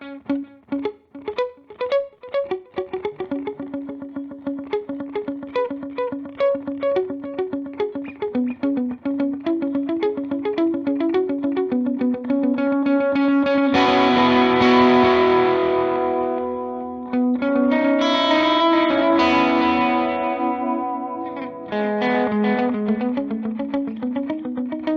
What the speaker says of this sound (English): the delay that I've settled on using for the most part is the vintage digital delay